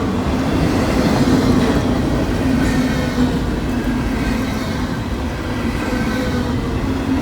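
A long Norfolk Southern freight train carrying intermodal containers and auto racks rumbles steadily past on an elevated curve, with a constant close roar and faint wheel clatter.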